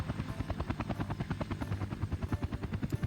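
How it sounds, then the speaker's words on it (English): A helicopter in the Workers and Resources: Soviet Republic game, its rotor chopping in a steady, rapid rhythmic thump that stays even and moderately loud throughout with no talk. "It's the magical Soviet Republic helicopter."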